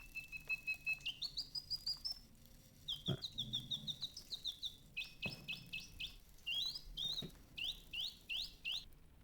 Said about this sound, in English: Mechanical bird.